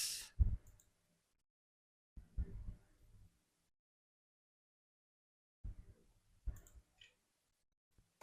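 Keyboard shortcut keys pressed while working in Microsoft Excel: a few separate bursts of clicky keystrokes, close and quiet, spaced apart by silent gaps.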